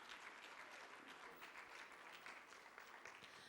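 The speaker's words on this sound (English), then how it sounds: "So please, a big round of applause for Karthikeya for his support." Audience applause at a plenary session of the WEF 2017 forum, a dense, even roar of many hands clapping from a large crowd, sustained at a fairly distant, soft level throughout.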